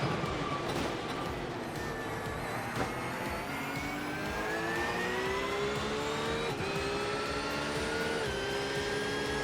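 A green and yellow race car runs at full speed heard from the cockpit, a loud, continuous engine whine climbing through gears with a couple of brief shift dips and no talk.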